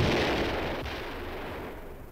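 Gunfire and artillery from war footage, likely around the Korean War of 1950, rumble as a dense, continuous barrage of loud, overlapping blasts with no clear gaps.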